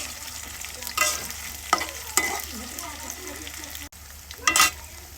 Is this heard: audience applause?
no